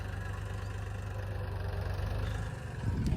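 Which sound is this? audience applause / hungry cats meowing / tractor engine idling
tractor engine idling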